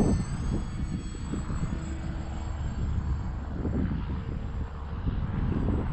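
X-Fly Twin Nova 1400mm twin-motor RC plane flying after a grass takeoff, a distant steady whine over heavy wind rumble from gusty crosswind, continuous throughout.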